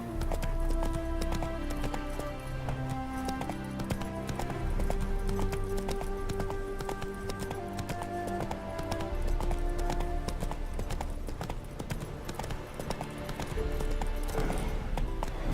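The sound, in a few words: horse Roach hooves in The Witcher 3 video game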